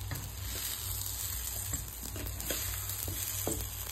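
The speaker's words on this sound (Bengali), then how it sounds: "আর হাফ টিস্পুন হলুদ দিয়ে এটাকে আমি এবার ভেজে নেব।" Rice with turmeric fries in a pan for pulao, giving a continuous, close sizzle with faint scattered crackles and no voices.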